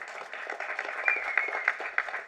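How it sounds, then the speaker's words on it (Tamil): An audience at a Tamil film audio launch and press meet claps in a sustained round of applause, with individual sharp claps standing out over the crowd throughout. "அதுக்கே தனியாக நீங்கள் அவருக்கு ஒரு கைத்தட்டல் கொடுக்கலாம்"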